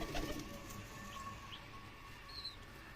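A racing pigeon cooing softly in a loft, low murmuring calls at a moderate distance. Faint bird chirps sit in the background and no one speaks.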